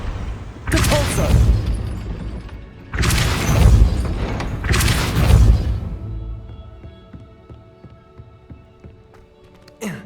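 Depulso spell impacts in the game Hogwarts Legacy, three loud booming blasts in quick succession, each with a rumbling tail, fading into quieter mechanical rattles.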